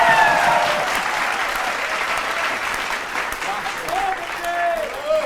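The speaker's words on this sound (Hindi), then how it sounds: "अगली पंक्ति में सर्वाधिक तालियां देना" An audience at a political comedy show gives strong, sustained applause that fills the whole moment, with a few whistle-like tones and faint voices rising through the clapping toward the end.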